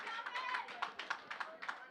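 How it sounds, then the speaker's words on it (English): Town hall audience on Nevis clapping, a quick scattered patter of hands, fairly faint and brief, with voices mixed in. "you guys clapping for me"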